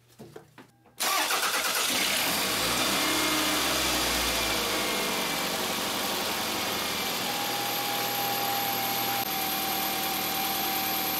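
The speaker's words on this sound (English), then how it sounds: "as you guys can hear, the engine is running" A Toyota Highlander engine cranks and catches after a brief moment, then settles into a steady, close idle with an even mechanical hum.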